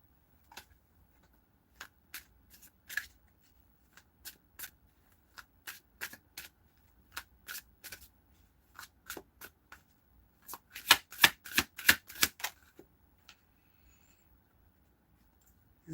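Tarot cards are shuffled by hand at close range, with sparse single snaps and riffles at first, then a dense burst of rapid card flicks, and nobody speaking.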